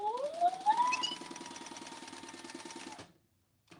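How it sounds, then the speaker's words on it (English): Sewing machine stitching a bag closed, a steady rapid mechanical chatter with a rising whine as it speeds up, running about three seconds before stopping abruptly, loud and close with no talking. "let's sew that closed."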